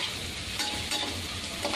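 Cabbage frying steadily in a pan as turmeric and chilli are stirred in, a continuous close sizzle with light scraping strokes running through it and no voice.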